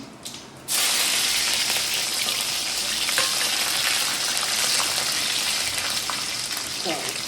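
Peanuts and cumin seeds fry in a pan with a loud, steady sizzle that starts abruptly after a short pause and keeps a dense crackle throughout, with a few faint stirring clicks near the end.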